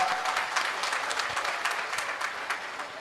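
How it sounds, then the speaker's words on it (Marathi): An audience at a religious gathering applauds loudly and continuously, dense clapping filling the hall for a few seconds without pause. "पुन्हा एकदा जोरदार टाळ्या वाजवा"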